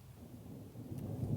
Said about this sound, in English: Ooh, and that was thunder and lightning.